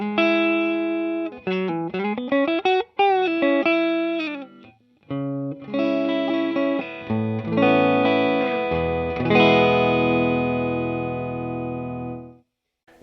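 Electric guitar on its neck single-coil pickup through a practice amp with chorus and no reverb, playing clean sustained notes and chords with brief gaps, ending on a long ringing chord that fades out.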